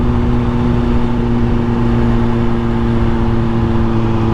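Steady drone of a motorcycle engine while riding on a road in southern New Brunswick, loud and continuous with a constant hum and wind rush and no change in pace.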